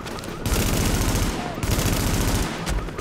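Dense automatic gunfire in The Division, a near continuous rattle of shots in bursts with brief gaps, loud and close throughout.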